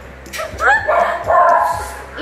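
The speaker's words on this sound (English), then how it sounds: "Even my dogs are so excited." Excited dogs yip and bark close by in a home kitchen, giving two whining, rising calls with short bursts between them, over a low background rumble.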